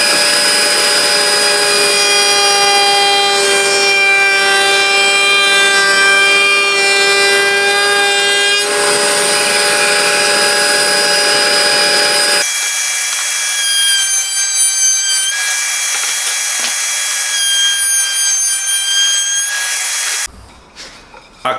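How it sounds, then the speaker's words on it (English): A planer runs a moulding profile along a timber edge, a loud, sustained whine with strong tonal overtones that shifts pitch midway and continues steadily before stopping abruptly near the end. "we're going to run this through in that plane there with the bit of timber"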